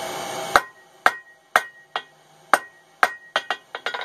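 Hammer blows on hot steel while forging chain-making tongs, drawing the end out to a tapered point; about eleven sharp ringing strikes, evenly spaced at first, then quicker near the end, close and clear with no talk.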